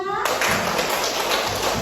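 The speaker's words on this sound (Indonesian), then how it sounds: "Boleh tepuk tangan dulu buat kita semua." A classroom of children claps together in a dense, steady burst that starts abruptly after a brief tone and carries on near and fairly loud, with some thumps mixed in.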